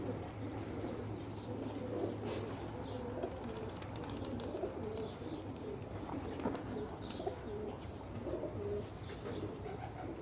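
Pakistani pigeons coo continuously in a soft, layered chorus, several birds murmuring at once with occasional chirps, at a moderate distance and without talk.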